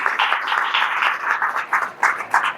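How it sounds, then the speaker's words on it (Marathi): Loud, steady applause from an audience at a gathering marking Adi Shankaracharya's birth anniversary, a dense crowd clapping that swells in small surges over a couple of seconds. "एकदा जोरात टाळ्या"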